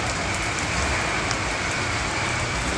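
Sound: rain falling on a beach camp

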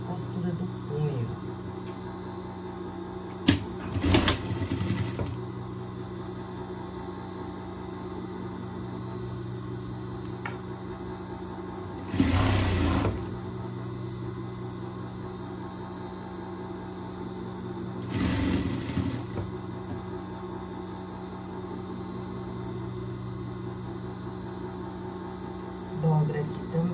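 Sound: sewing machine stitching a pet outfit's seams

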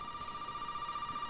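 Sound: telephone ringing in the video game Resident Evil 7

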